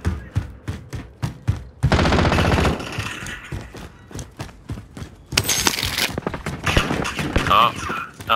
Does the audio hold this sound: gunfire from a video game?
yes